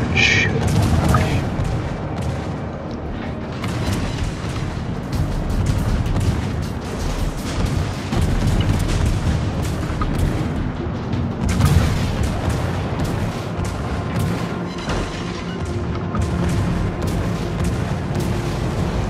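Naval guns boom repeatedly in a World of Warships battle, a dense, continuous barrage of loud shots and explosions with game rumble throughout and some voice chatter underneath.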